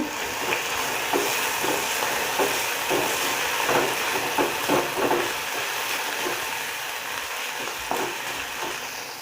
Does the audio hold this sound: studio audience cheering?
no